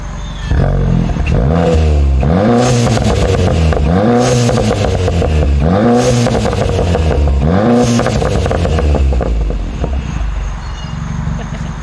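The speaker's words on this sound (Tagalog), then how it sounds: "turbo noises. Ito sa exhaust." An Audi revs hard again and again with turbo whoosh and throaty exhaust, about four surging pulls close and loud, fading to an idle at the end.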